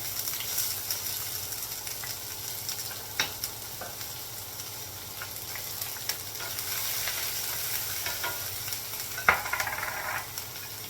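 Onion and garlic fry in a pot for goulash with a soft steady sizzle, close by, punctuated by occasional light utensil knocks and a brief scrape near the end; nobody speaks.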